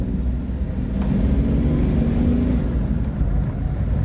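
A car with no working clutch drives along while being downshifted, its engine a loud, steady low drone with a slight shift in pitch partway through; nobody speaks.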